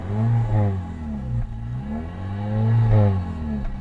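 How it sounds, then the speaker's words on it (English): A 2020 Honda Civic Sport engine revs twice in short blips, the pitch sweeping up and falling back each time, heard close and fairly loud with no talking. "Let's go ahead and give it a little rev here."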